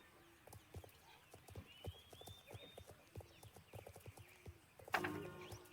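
Steady horse hooves clip-clop at a trotting rhythm in a video game, with faint background ambience and a brief louder burst near the end.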